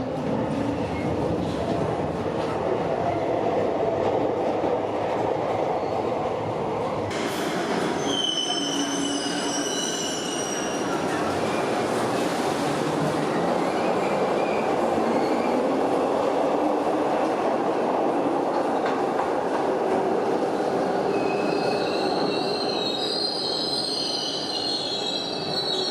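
A train rolls steadily along the rails on a journey home through Scotland, with a continuous loud rumble, rhythmic clatter and high metallic wheel squeals rising and fading throughout.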